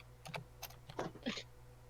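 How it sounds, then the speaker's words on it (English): Someone types on a loud gaming keyboard in a few quick bursts of clicky keystrokes. The taps are close but fairly quiet, with a steady low hum underneath. "I'm trying to type so quietly right now."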